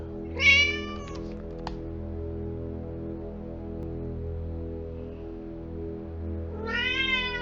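A cat meows loudly for food inside the Vertigo video game, one long wavering yowl near the start and another rising call at the end, over a steady low game hum.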